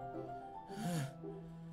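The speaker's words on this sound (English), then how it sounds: "A sharp inhale, like someone is sucking the air through their teeth." A single sharp, breathy inhale through the teeth, a sound effect in Doki Doki Literature Club Plus, rising briefly and fairly close over a soft, quiet musical backdrop.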